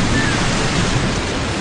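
Ocean waves crash continuously in a dense, steady roar of surf blended with wind noise on the microphone, loud and close, with no voices.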